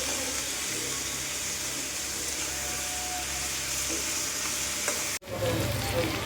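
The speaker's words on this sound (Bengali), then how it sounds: "টমেটো কুচি দিয়ে দিচ্ছি, চিকেন দিয়ে দিলাম। এবার একটু ভালো করে ভাজতে হবে।" Chicken and chopped tomato frying in a pan for egg chicken tadka, a constant hiss of sizzling that cuts out abruptly near the end before resuming.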